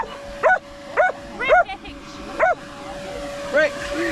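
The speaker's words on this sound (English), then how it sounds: "Yeah, bark, bark, bark, bark, bark, bark, bark. Good dog." A dog barking repeatedly outdoors, about five sharp, loud barks and yips in an uneven rhythm close by, with a steady tonal hum and car noise underneath.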